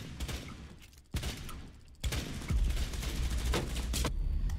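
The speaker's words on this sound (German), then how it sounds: "Die schießen durch die Wand, Vorsicht." Gunfire in the tactical shooter Rainbow Six Siege: dense, rapid bursts of automatic shots crackle close and loud, broken by short pauses, with heavy rumbling impacts building toward the end.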